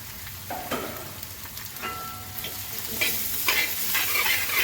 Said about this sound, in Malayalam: നമുക്ക് വെളുത്തുള്ളി ഇട്ട് കൊടുക്കാം. ഇഞ്ചി ഇട്ട് കൊടുക്കുക.